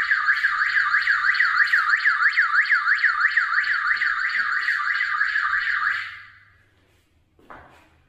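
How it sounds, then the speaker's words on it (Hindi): Siren on a Hikvision DS-2CE72D0T-PIRXF PIR turret camera triggered by motion, a loud, rapidly warbling electronic wail for about six seconds before cutting off, followed by a brief knock. "तो ये देखिए यहाँ से ये सायरन बजने लग गया।"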